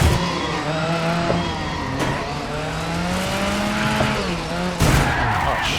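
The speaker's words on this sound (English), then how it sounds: "Pretty monstrous sounding vehicle though." A rear-engine, rear-wheel-drive car in the Dirt 5 racing game growls with a monstrous, rising and falling engine note, tires squealing as it slides, with a sharp impact near the end.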